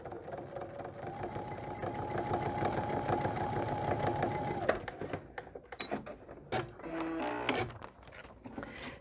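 A sewing machine stitches a quilt block with a fast, steady mechanical whir for about four and a half seconds, then stops, leaving scattered handling clicks and rustles close by.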